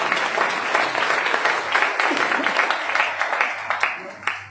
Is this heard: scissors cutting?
no